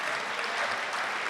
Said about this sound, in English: So let's give our parents a round of applause.